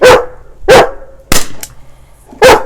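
A dog barks outdoors in a garden, four loud, sharp barks spaced roughly evenly and close by, with quiet gaps between them.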